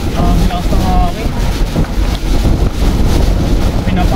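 Strong typhoon wind roaring and buffeting the microphone in a loud, continuous, rough blast that surges and dips slightly without pause.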